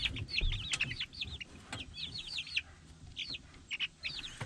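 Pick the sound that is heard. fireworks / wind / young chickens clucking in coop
young chickens clucking in coop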